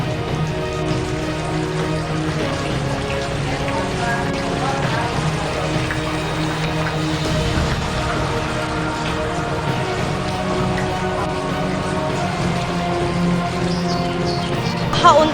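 Steady, dense rain falls without pause over a low background rumble, a continuous wash of drops that stays even in level throughout.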